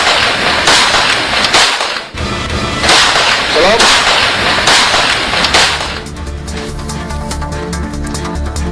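Gunfire from a handgun in replayed footage: dense, loud cracks and bursts fill the first six seconds over crowd noise, then give way to a quieter stretch with background sound.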